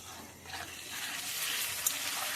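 Potatoes fry in a pan with salt and turmeric while being stirred, a soft, even sizzle with a light scrape, brief and fairly quiet.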